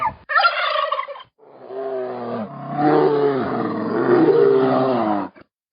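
Wild turkey gobbles and yelps ring out loud and close, a short burst followed by longer rolling gobbling calls with no talking over them.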